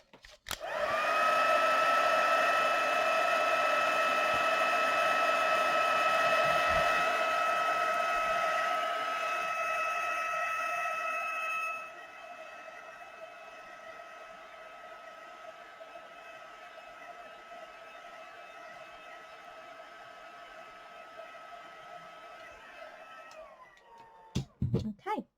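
A hair dryer blows on wet watercolour paint on paper, a loud steady whining drone close up that drops to a lower setting midway and clicks off at the end.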